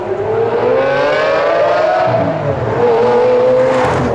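A Liberty Walk Lamborghini Aventador supercar revs hard and close, its loud, continuous engine note climbing in pitch, dipping briefly, then rising again with steady roaring harmonics throughout.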